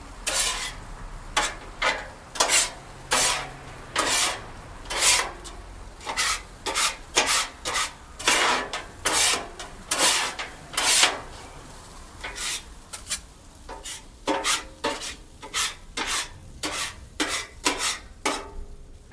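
Rice being stirred with soy sauce in a pan for egg fried rice, heard as a steady series of close scraping and rubbing strokes in rhythmic bursts, with no talking.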